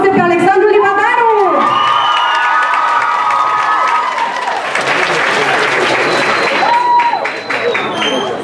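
Loud crowd applause with cheering and whoops greets a violinist stepping up to perform at a freshmen's ball at Nicu Gane National College, sustained throughout with shouted voices and some tonal whistling over the clapping.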